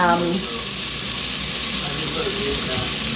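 Beef browning in a pot for a fall beef stew, a loud steady sizzle of meat frying in hot fat, constant and close without pause.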